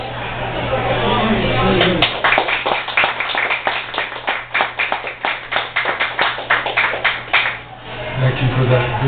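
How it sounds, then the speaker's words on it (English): An audience applauds after a poetry reading at the Frost Prize event, a lively burst of dense clapping lasting several seconds, then tapering off. "Thank you for that vigorous applause"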